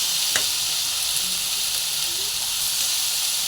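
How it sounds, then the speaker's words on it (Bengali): Sweet vegetables added to a pan of crisp-fried potatoes, frying in oil: a steady bright sizzle with a light knock or two of stirring, close and even, no talk. "তো এগুলো আবার ভাজা হোক"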